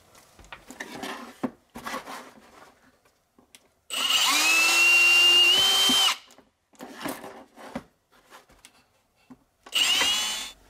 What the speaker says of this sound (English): So our next step will be to drill this hole out slightly